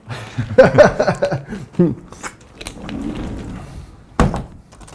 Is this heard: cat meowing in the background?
no